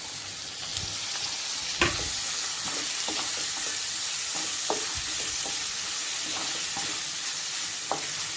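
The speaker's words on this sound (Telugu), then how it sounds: "ఇప్పుడు టమాటాలు కట్ చేసుకున్న టమాటాలు వేయాలి." Chopped tomatoes fry in hot oil for a Guntur-style chicken curry, a continuous loud sizzle with occasional scrapes and knocks of a stirring spoon against the pan.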